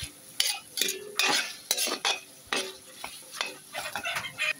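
Spaghetti sauce with corned beef stirred in a pan, a spoon scraping and clinking against the metal in irregular strokes over a faint sizzle, close and alone with no talking.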